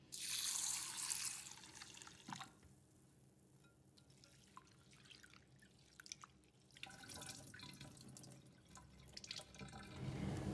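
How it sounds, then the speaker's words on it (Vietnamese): Mung beans being rinsed in a bowl of water, with sloshing and dripping, a louder splashing burst at the start and again near the end, quieter trickles in between. "Trước tiên thì mình sẽ đi rửa đậu xanh."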